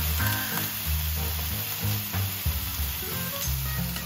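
Leftover pork meat ragu sizzling and being stirred in a Saladmaster skillet with vegetables, a bright continuous crackle broken by repeated scraping strokes of the utensil, close and fairly loud.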